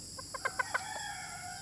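Hen clucking on a farm, a quick run of five or six short rising clucks, fairly close and clear, over a steady faint background hum.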